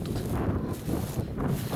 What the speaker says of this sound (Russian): Ветер гуляет тут у нас в степи, в степях.